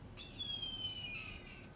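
A single owl call at a bird of prey center, a clear, drawn-out tonal screech with a harmonic stack that falls slightly midway, heard fairly close against a quiet background.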